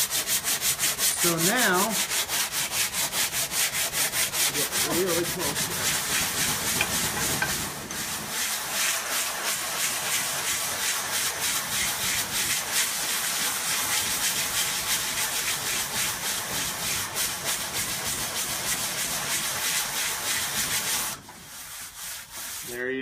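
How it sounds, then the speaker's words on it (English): A repaired wing is hand-sanded in long, rhythmic strokes, a harsh scratchy rasp that repeats quickly and steadily for about twenty seconds, loud and close, with a brief spoken remark at the start and the scraping pausing near the end. "Now when I finish sanding my entire wing, I can disappear the whole thing."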